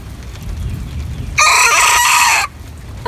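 A young rooster in a brooder lets out a single short, raspy crow lasting about a second, close and loud against faint background noise.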